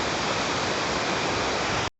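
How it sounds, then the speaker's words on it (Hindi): Pindar river in the Himalayas rushing loudly and steadily, a dense broadband roar of fast water close by with no voices, cutting off abruptly at the end. "ये वो नदी है, पिंडर नदी, जिसे हमें पार करना है।"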